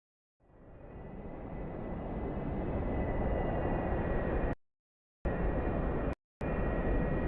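A Chinook helicopter in the DCS flight simulator. Its steady, loud engine and rotor roar fades in and holds, cut by two brief dropouts of silence.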